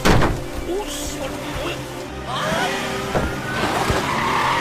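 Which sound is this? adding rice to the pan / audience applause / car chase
car chase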